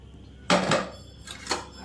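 A pressure cooker of cooked dal being opened: a sharp metallic clank of the lid and pot, followed by a couple of lighter metal knocks and clinks nearby.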